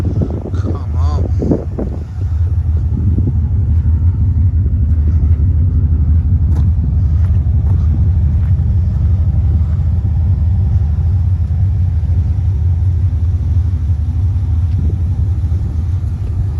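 Bagged Mercedes with a turbocharged LS V8 swap, its engine rumbling deep and loud for the whole stretch amid heavy wind buffeting, with a short burst of voices early on.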